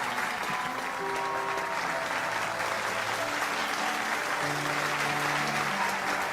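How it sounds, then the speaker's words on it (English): A large rally crowd in Korea gives Dr. Hak Ja-han Moon a steady, dense round of applause, loud and continuous throughout, with faint musical tones underneath. "Let us give Dr. Hak Ja-han Moon another big round of applause"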